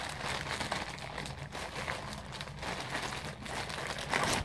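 Crinkly plastic packaging from a Romwe clothing haul being opened by hand, with steady crackling and rustling throughout, close and fairly loud, and no talking.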